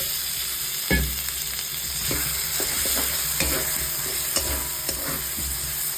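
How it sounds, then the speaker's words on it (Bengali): Potatoes stir-fry in a spice masala with Kashmiri chilli powder, a loud continuous close sizzle with repeated soft knocks and scrapes of a spoon against the pan. "এবার আমি আলুগুলো দিয়ে একটু কষিয়ে নেব"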